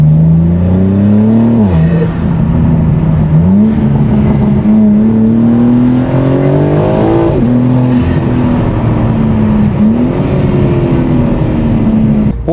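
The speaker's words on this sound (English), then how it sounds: "I can't say anything more about this exhaust, it sounds so good." A BMW G82 M4 fitted with a loud aftermarket exhaust drones steadily and loudly up close, its pitch rising and falling with repeated revs, with no talking over it.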